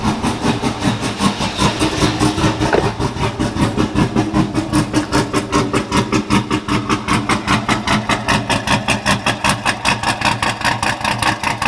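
A truck engine idles steadily close by, a fast, even mechanical chug with regular pulses that keeps going throughout, with no voices over it.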